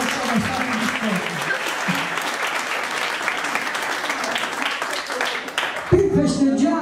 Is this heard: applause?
yes